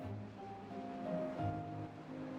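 Deep water in the city-building game Timberborn washes and surges in a steady, soft wave ambience with low rolling swells, no voices over it.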